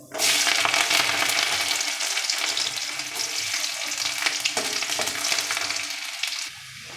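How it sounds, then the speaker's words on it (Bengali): Chopped garlic frying in hot mustard oil with dried red chillies and black cumin, a loud, steady close sizzle with crackling spatters and occasional stirring scrapes, easing off near the end. "রসুনটা ভাজা হয়ে গেছে"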